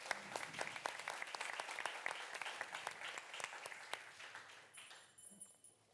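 An audience at a conference on accessible ICT in Europe gives the panel a round of applause, many hands clapping in a brisk, even patter that thins out toward the end, heard at moderate distance.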